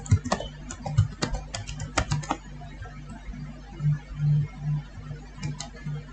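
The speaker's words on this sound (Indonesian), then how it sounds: "sekarang saya tinggal klik password saja, masukkan password." Close computer keyboard typing while entering a password, a burst of quick irregular key clicks followed by a few sparse taps, with faint low murmuring in the background.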